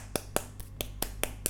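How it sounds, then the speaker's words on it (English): A series of about seven sharp finger snaps in a steady, evenly spaced rhythm, crisp and close with no talk over them. "Let's give that one finger clap for Owen for the greatest virtue signal of"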